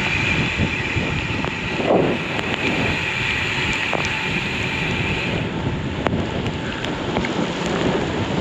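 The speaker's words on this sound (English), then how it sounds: "And now the lightning and thunder has started." Steady torrential rain hisses loudly throughout while low thunder rumbles underneath, with a few sharp crackles and pops along the way, heard during a bicycle ride.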